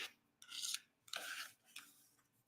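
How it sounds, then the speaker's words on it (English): Nail polish scraped off the edge of a nail stamping plate: three short, dry rasping strokes, close and quiet, with brief pauses between. "So go to the edge, one edge only, just scrape, scrape."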